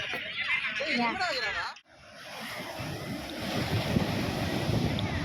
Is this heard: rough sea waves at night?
yes